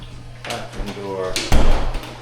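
Bathroom door handled during a vacant apartment unit inspection, a clunk and thud as it swings and latches, close by, with someone talking over it.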